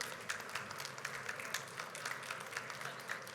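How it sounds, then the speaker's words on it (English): A large audience applauds at a cinema industry expo session, dense, steady clapping throughout, fairly distant and moderately quiet, with no talk over it. "can we please hear a huge round of applause for all of them?"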